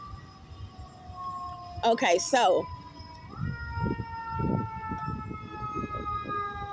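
An ambulance siren wails steadily in the background, with a vehicle engine rumbling and a person briefly speaking over it partway through.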